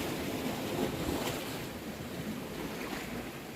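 Sea waves surging against a rocky shoreline at a coastal fishing spot, a steady broadband wash of surf with wind noise on the microphone, fairly close and continuous.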